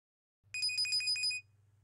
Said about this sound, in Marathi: फोन वाजतो.